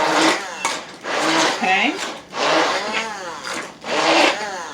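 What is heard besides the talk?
blender pulsing mashed cauliflower with whipping cream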